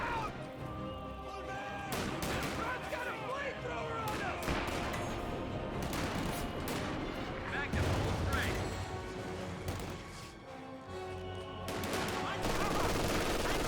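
Battle in the Company of Heroes 2 strategy game, with dense rattling gunfire, bursts of machine-gun fire and heavy booms from pack howitzer shelling filling the whole stretch, loud and continuous, with a voice talking over the combat.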